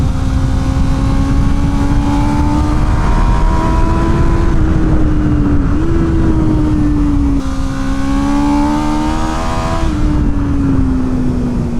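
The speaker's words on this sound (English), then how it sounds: "You got a lot of revs to play with, even though this isn't a super screamer of an engine." A Honda CB650R motorcycle engine revs loudly and steadily on a race track, its pitch climbing through rising runs and dropping sharply at shifts, a close, continuous, buzzy engine note with no voices.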